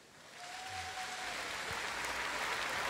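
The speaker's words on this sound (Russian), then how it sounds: "Аплодисменты." Concert audience applause builds from quiet to a steady, broad wash of clapping, heard at a distance and fairly faint, with no talking over it.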